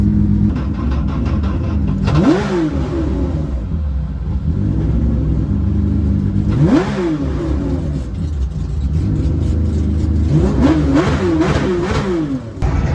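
A Porsche 911 GT3 Cup race car engine roars in repeated loud revving bursts, pitch climbing and falling as it accelerates and shifts, with no talking.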